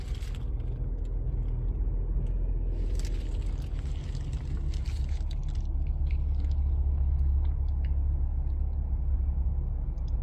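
A 2024 Toyota Yaris engine running at idle, a low steady rumble up close that continues through the whole stretch with faint clicks and a brief shuffle on top, no voices.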